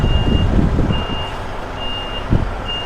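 A heavy goods truck reverses into a yard spot, its backup alarm beeping in slow, regular pulses over a loud, rumbling engine, with a brief air-brake hiss near the end.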